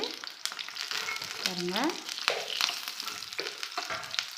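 Fish frying in a pan, a steady close hiss and crackle of hot oil with scraping stirs, while a voice speaks briefly.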